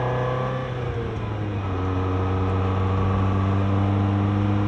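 A Ferrari 308GTS engine fed by Weber 40 DCNF carburettors, freshly refitted, idles steadily, a close, even, continuous hum with a constant drone throughout and no voices.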